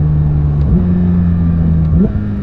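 A Porsche 911 GT3 engine drones loud and close while driving, holding a steady note with two quick rises in pitch, like upshifts, around the one-second mark and near the end.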